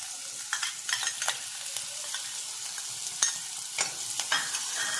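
Green chillies and a small onion sizzle softly in hot oil in a pan while cooking vada pav, a steady faint fry with occasional stirring scrapes and taps.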